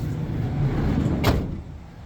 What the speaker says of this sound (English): See that door shuts nice and easy.